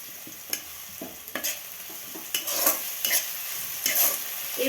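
Ginger and garlic being stirred into onions frying in a pan for a spiced eggplant dish, with a steady sizzle under irregular scraping stirs that come in several louder bursts, close up and with no voices.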